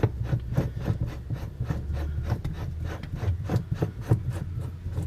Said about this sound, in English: you'll take your aluminum bushing. Simply screw that on